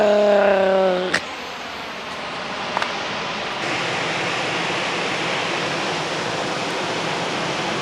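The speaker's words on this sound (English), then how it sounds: "Big Falls, the largest single drop on the Big Duck River" Big Falls, the largest single drop on the Big Duck River in Tennessee, makes a steady broadband roar of rushing water, heard from nearby along a hiking trail. A brief tonal sound and a couple of clicks appear at the start.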